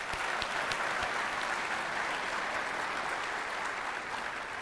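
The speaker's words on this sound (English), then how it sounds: "Let's give them a round of applause" An audience applauds students' research projects, a dense steady wash of clapping that holds at even strength throughout, with no voices standing out.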